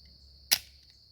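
One sharp, close shot from a Tisas Tanker 1911 .45 ACP pistol, a single loud crack with a brief fading tail over a faint steady high-pitched background tone.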